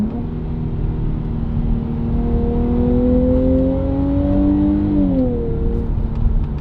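Car engine in manual mode held in second gear, revving steadily upward with rising harmonic whine, close and continuous, then a brief dip near the end as the revs settle.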